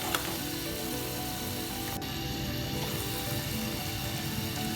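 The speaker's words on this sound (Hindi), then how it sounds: "इसी तरह सारे पकौड़े निकालने के बाद जो बाकी हैं वो भी फ्राई करेंगे।" Pakoras frying for kadhi pakora, a steady, low-level sizzle of batter in hot oil that continues evenly throughout, with a faint clink of utensils partway through and no talking.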